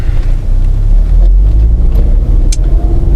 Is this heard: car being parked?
yes